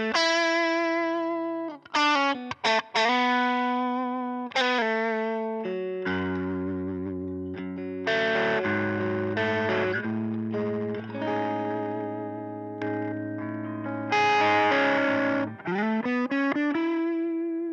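An electric guitar through a JHS Violet distortion pedal set to low gain with the treble eased back, playing ringing chords and single notes with light crunch, close and loud, with short gaps between phrases.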